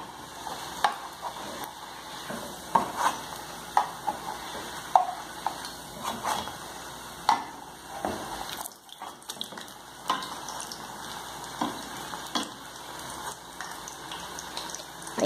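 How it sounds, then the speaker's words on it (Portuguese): Steady crackling sizzle of a ham and mozzarella pastel frying in hot oil, with scattered clinks and scrapes of a utensil against a pan throughout. "Esse que eu tô fritando agora é de presunto e mussarela."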